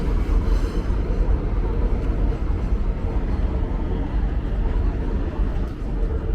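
Passenger train near Yankee Stadium in the South Bronx on opening day, a steady loud low rumble close by that fills the whole stretch without letting up, with a faint hint of crowd voices underneath.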